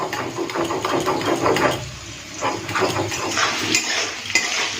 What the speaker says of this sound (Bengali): এদিকে আমি শিলে আদা রসুনটা বেটে নিচ্ছি প্রথমে রসুনগুলো বেটে তুলে নিই তারপরে আমি আদাগুলো বেটে নেব